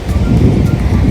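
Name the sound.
strong wind at the beach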